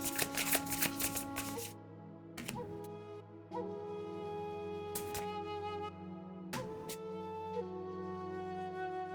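Tarot cards shuffled by hand at close range, a dense riffling burst followed by quieter intermittent slides and taps of the deck, with a steady tonal hum from background music and no talking.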